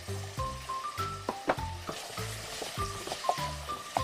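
Onions and carrots sizzle softly in olive oil in a hot saucepan while a utensil scrapes and clinks against it in an uneven stirring rhythm.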